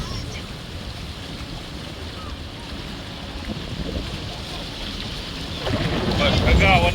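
Rumbling boat moving across water at the Blue Lagoon, Cyprus, with wind buffeting the microphone and water splashing, swelling louder near the end; faint voices in the background.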